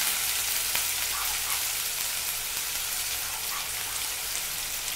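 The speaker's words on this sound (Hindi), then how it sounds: "प्याज को अच्छे से भूनें" Onions frying in a pan for a tomato and peanut vegetable curry, with a steady dense sizzle and crackle running throughout, fairly loud and close, and no talking.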